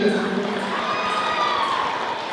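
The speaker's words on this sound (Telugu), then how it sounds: "అందరూ మళ్ళొకసారి గట్టిగా చప్పట్లు కొట్టాలి." An audience at a Kuchipudi dance performance breaks into steady, sustained applause, a dense wash of clapping heard at moderate volume throughout the short moment.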